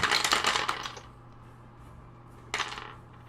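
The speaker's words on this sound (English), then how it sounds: "That's a lot of fucking dice you're rolling" Several dice rattle and clatter across a table during a Dungeons & Dragons game, a dense burst of clicking up front, then a short second tumble after a pause.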